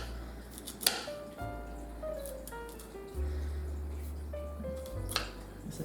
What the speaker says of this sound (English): I will cut broccoli, and I will use all parts of the broccoli for this salad